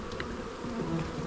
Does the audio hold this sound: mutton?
no